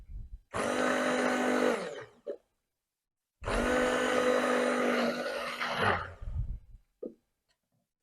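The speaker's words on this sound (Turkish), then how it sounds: "O yüzden blender kullanacağım ben de." A stick blender mixes cold process lavender soap batter in two long whirring bursts, the motor loud and close with a short pause between runs and brief clicks after.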